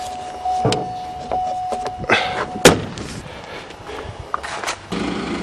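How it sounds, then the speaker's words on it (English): Heavy doors on a turbo Volvo are shut, several sharp thuds and clunks close by amid mechanical clicks and a short whirring, with a steady background hum. "Ugh, heavy doors."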